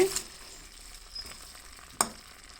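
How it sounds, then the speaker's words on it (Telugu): Cabbage simmering in a pan on low heat with faint sizzling and a soft stirring scrape, a sharp clink of the spoon against the pan near the end, no talk. "ఇలా ఉడుకుతున్నప్పుడు మళ్ళీ ఇంకోసారి ఇట్లా తిప్పుకోవాలి"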